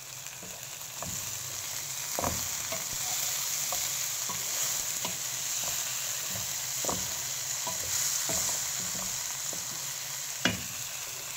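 Tomatoes, green chillies and curry leaves frying in a pan of oil for a fish curry, a steady hiss with scattered pops and crackles and a few sharp utensil taps throughout.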